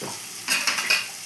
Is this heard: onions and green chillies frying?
yes